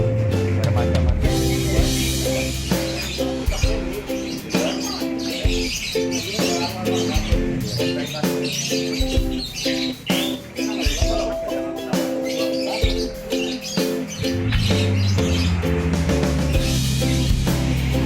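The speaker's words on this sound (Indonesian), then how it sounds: "Banyak burung, lain-lain bermacam-macam." Many assorted birds in an ombyokan cage chirp and tweet together in a dense, continuous near chorus with some cooing mixed in.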